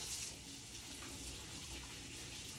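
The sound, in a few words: tap water running while washing hands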